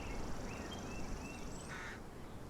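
Outdoor birds in woods chirp and call faintly in short scattered notes over a steady hiss of background noise, with no voices.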